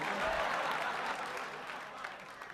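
Comedy club audience at Gotham Comedy claps steadily for a stand-up set, a dense wash of applause that slowly fades toward the end.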